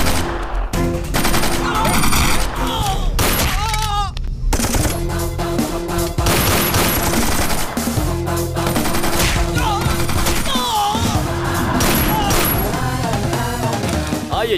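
Sustained automatic gunfire in a Hindi-dubbed action movie fight scene, loud and dense throughout with bursts, impacts and crashes layered over a music score, a few shouts in the mix.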